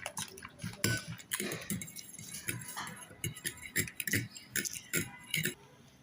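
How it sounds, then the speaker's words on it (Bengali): A bread toast batter seasoned with chicken powder being beaten in a bowl, rapid rhythmic clinking and tapping of the utensil against the bowl in quick uneven bursts, close but fairly quiet. "খুব ভালো করে ফেটতে হবে যাতে সব কিছু ভালো করে মিক্স হয়ে যায়"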